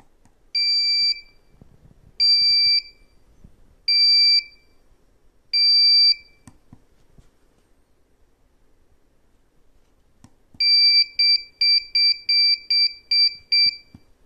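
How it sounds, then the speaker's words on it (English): Seatbelt warning buzzer on an automotive Hall effect sensor demonstration board: four spaced electronic beeps, a pause with faint clicks, then a faster run of seven short close beeps; no voices. "If the buzzer is unmuted, it starts beeping."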